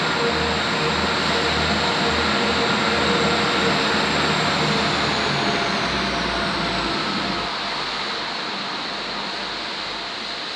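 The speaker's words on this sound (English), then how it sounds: "departing now is 175113 with the 14:30" A three-car Class 175 diesel train pulls out of Crewe station on the West Coast Main Line, a steady broad rumble and engine drone that slowly fades as it moves away.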